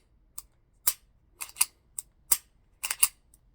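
A Taurus GX4 pistol's trigger is pulled and reset repeatedly, giving sharp dry clicks in pairs and singles, close and crisp against near silence, about eight distinct snaps over a few seconds.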